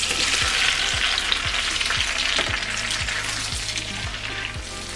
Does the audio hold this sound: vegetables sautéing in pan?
yes